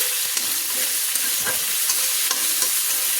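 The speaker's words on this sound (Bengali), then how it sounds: "আদা টমেটো আমি ভালো করে সব কিছু নেড়ে নিলাম।" Ginger and tomato frying in a pan while being stirred, a steady close sizzle broken by regular scraping strokes of the spoon, with no talking.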